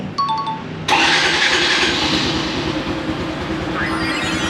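A Honda Wave125i motorcycle starts up close: a quiet moment with faint beeping, then a sudden catch of the engine into a loud, steady idle with a rattling low pulse that holds to the end.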